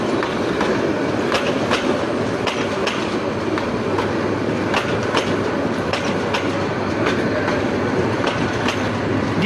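The Chattala Express, hauled by locomotive 3004, reverses near the Bhairab bridge, wheels clacking over rail joints in a steady rhythm with a loud, close rumble and no talk.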